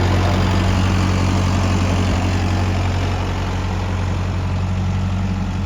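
A Swaraj 855 tractor engine idles steadily in a farm field with a deep, constant low rumble, close and loud throughout, no talking.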